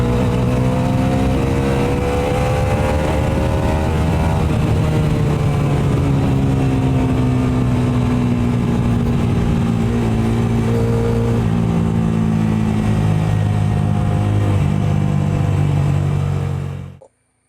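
A Bajaj Dominar 400 motorcycle engine under load while riding, a loud close roar with pitch that climbs, dips after a gear change and builds again for many seconds before cutting off abruptly at the end.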